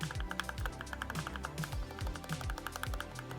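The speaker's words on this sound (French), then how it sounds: "sur cette version-là, c'est des switches rouges linéaires et donc c'est des switches qui sont pré-lubrifiés" A mechanical keyboard with pre-lubricated red linear switches being typed on, quick close keystrokes in an uneven rhythm with deeper thocks as keys bottom out, no talking.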